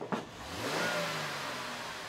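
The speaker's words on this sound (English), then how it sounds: "let's listen to what this car sounds like at the moment" A Mercedes-Benz GLK on its stock exhaust idles and is blipped once, a soft, steady engine hum rising gently after a brief click, heard up close without speech.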